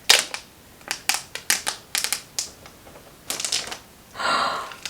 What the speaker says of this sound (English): I'm going to peel back the plastic wrap.